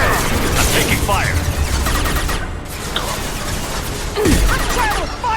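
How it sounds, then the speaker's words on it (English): Mass Effect 2 combat: dense bursts of gunfire and clattering weapon mechanisms crowd the scene, loud and continuous, with shouted voices mixed in among the shots. "I'm taking fire!"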